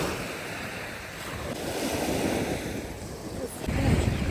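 Sea waves wash steadily onto a beach, a continuous broadband surf roar with wind buffeting the microphone and swelling louder toward the end.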